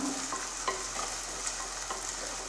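Onions and green chillies, salted, sauté in a pan for an anchovy curry, giving a steady soft sizzle with a few light scraping stirs throughout, no voices.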